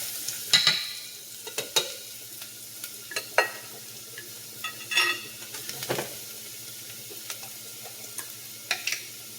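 Garlic sautéing in a pan over high heat, with a soft background sizzle and irregular clinks and scrapes of a utensil against the pan, close by, with no one speaking.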